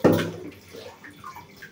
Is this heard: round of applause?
no